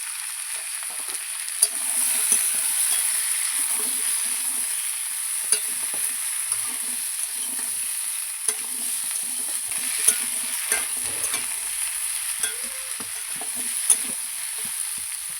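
Pre-cut pumpkin pieces fry in a pan with oil while being stirred, giving a bright steady hiss with scattered scrapes and small clicks of the spoon, close and without speech.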